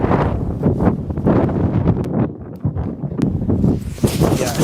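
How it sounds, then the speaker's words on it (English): Strong wind from Storm Amy buffets a microphone tucked inside a jacket at Aberdeen Airport, a loud continuous low roar with gusty surges and rustling throughout. "I can let you hear the wind"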